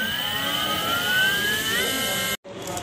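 A rewound sine wave motor from an e-rickshaw runs smoothly with a steady high whine that slowly rises in pitch, broken by a brief dropout near the end; no talk over it.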